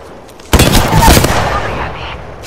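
A sudden burst of rapid gunfire in a shooter video game, loud and close, starting abruptly and tailing off with a rumbling echo over a couple of seconds.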